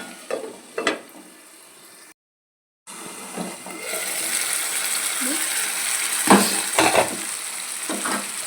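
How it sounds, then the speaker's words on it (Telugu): Prawns frying in oil with masala and tomato in a pan give a steady, close sizzle, broken by a short gap of silence and a few louder scraping stirs. "ఇప్పుడు రొయ్యలు బాగా మనకి ఆయిల్లో బాగా ఫ్రై అయ్యేవి."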